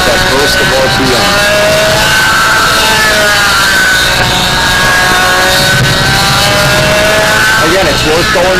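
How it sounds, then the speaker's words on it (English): A Jett 50 model aircraft engine screams at high RPM, a loud, continuous whining tone that shifts in pitch as it surges through a burst of speed, with a voice talking over it. "As it leaves the maneuver, you get that burst of RPM."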